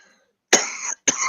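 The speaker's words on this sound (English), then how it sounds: "You got a cough." Two sharp coughs sound close by, the second about half a second after the first, with no talk over them.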